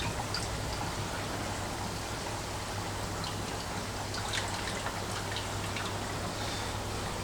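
A Superfish Eco Plus RC 15000 pump moves water in a fry tank, producing a steady trickling, splashing flow over a constant low hum, close and continuous without talk.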